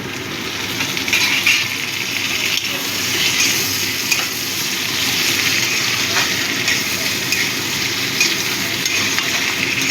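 Tomatoes go into onions already frying in a pan, raising a steady, loud hiss of sizzling oil that holds for about ten seconds with faint clinks of stirring and no talk.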